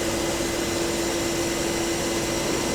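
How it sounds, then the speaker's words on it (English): A Nilfisk ATTIX 751 wet vacuum cleaner runs steadily and close, giving off a constant loud motor whine with an even airy hiss and no breaks. "That's the ATTIX 751 wet vacuum cleaner."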